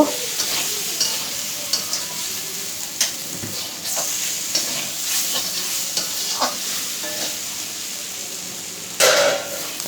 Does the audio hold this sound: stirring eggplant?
yes